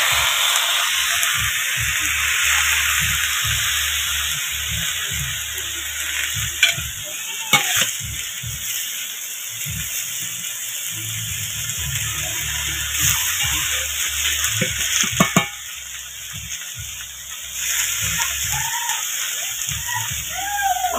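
Daliya (cracked wheat) cooking in a pan with cabbage and spinach gives a steady low sizzle, with scraping stirs and occasional clinks and knocks throughout.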